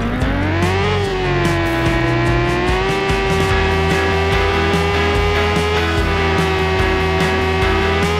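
A dirt motorbike engine from the mobile stunt-racing game Impossible Bike Tracks 3D drones steadily and loudly throughout, its pitch climbing and dipping slightly as the throttle shifts, with no talking over it.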